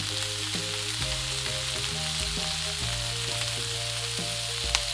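Brussels sprouts fry in a pan with a steady, dense sizzle that holds at an even level throughout, while tonal music plays underneath.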